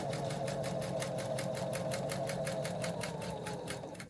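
A sewing machine runs steadily, stitching around a foundation paper pieced quilt patch, a close, even mechanical whir with a fast regular beat that slows slightly at the end.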